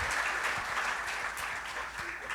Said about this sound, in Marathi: आपण या ठिकाणी आर्किटेक्ट विमल पटेल यांच्यासाठी जोरदार टाळ्या वाजूया